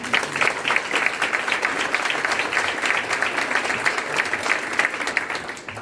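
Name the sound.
audience applause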